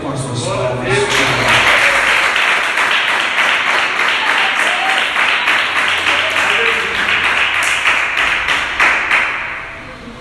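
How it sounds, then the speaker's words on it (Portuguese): A church congregation claps in praise, a dense, steady crowd of hand claps running throughout with voices mixed in underneath, fading slightly at the end. "E glorifica Ele com as suas palmas."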